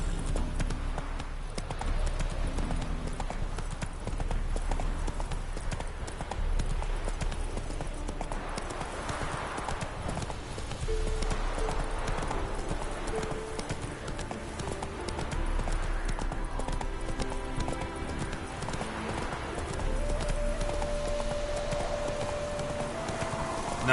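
A horse gallops continuously in The Witcher 3, with rapid, loud, steady hoofbeats running the whole length under game ambience, and a faint tonal sound rising near the end.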